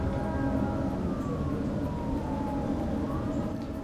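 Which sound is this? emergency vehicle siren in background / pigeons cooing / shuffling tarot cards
emergency vehicle siren in background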